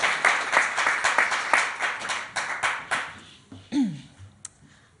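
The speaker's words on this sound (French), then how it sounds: "applaudissement" Short round of applause from an audience at a live French storytelling event, a burst of hand claps that fades out over a few seconds, then a brief voice.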